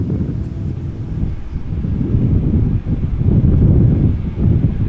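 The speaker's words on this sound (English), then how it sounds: "And I think that the wind is picking up a little bit." Wind gusting across an open area at Amsterdam Schiphol Airport, a steady low roar that builds and swells without pause, with no voices.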